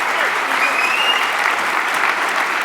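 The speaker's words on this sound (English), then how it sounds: "Gary Vaynerchuk, big round of applause." A large conference audience in San Diego applauds after a keynote, a loud, continuous, dense wash of clapping, with a faint whistle cutting through briefly.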